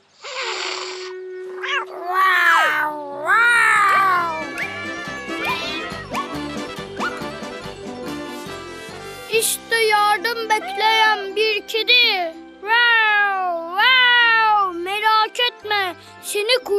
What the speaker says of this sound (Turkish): Merhaba yavru kedicik.